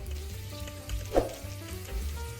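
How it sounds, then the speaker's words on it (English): Tomato paste frying in sunflower oil and melted butter, a steady close sizzle with soft stirring scrapes and a brief louder pop partway through, no voices. "add 1 tablespoon of tomato paste and let's fry it 2 to 3 minutes"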